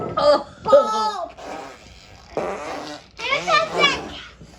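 Loud, spluttering fart noises come in short bursts, apparently made with the mouth, alongside a child's whiny, moaning voice in between.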